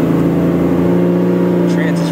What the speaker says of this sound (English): Going to fourth gear.